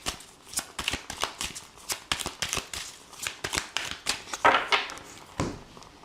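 An oracle card deck, the Mandalove, being shuffled by hand in a quick run of crisp riffles and slaps, close and steady, with a few heavier shuffles near the end.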